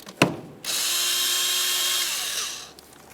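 A power tool zips off a 10mm nut from the engine cover of a 2009–2010 Pontiac Vibe 2.4L, starting with a click and then a steady high-pitched whir of a couple of seconds that winds down.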